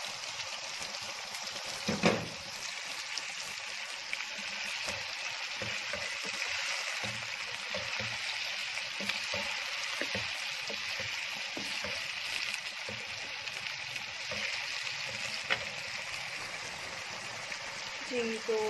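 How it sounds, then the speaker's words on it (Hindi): Chicken pieces frying with garlic and ginger paste in a pan, a steady close sizzle running throughout with occasional stirring scrapes. "लहसुन और अदरक का पेस्ट डालने के बाद तकरीबन 4 मिनट तक इसको मैंने मज़ीद भून लिया है"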